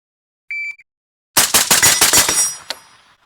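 Rapid string of rifle shots at an outdoor range, with a faint ring of steel targets being hit, preceded by a brief electronic beeping tone; sharp, loud cracks in quick succession that then fade out.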